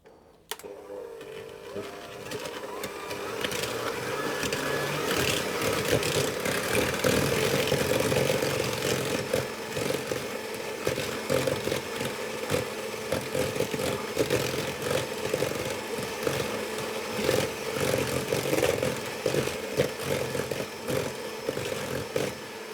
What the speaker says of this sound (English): And I'm simply going to whisk those until they're fully combined.